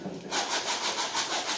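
Rhythmic, gritty rubbing strokes scrape back and forth across a painting, close and steady, like sandpaper working over a board.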